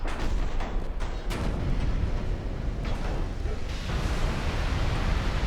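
Heavy naval guns of warships booming in the naval combat game Ultimate Admiral Dreadnoughts, a dense run of deep, rumbling blasts and overlapping salvos that continue loudly from start to finish with no pauses.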